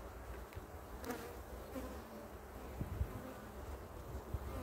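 Honeybees hum around an open hive colony outdoors, a soft continuous buzz with individual bees droning past the microphone, faint and close with light breeze in the background.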